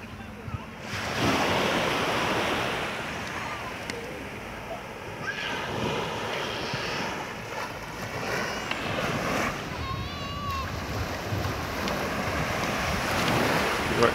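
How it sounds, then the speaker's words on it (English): Ocean surf at Browns Beach on Carlisle Bay, Barbados, a continuous broad wash of breaking waves mixed with wind buffeting the microphone, steady throughout with no pauses. "Browns Beach in beautiful Barbados."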